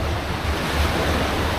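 Ocean surf rolling onto Karang Bolong beach, with a loud, continuous wash of breaking waves and heavy wind rumble buffeting the microphone close up.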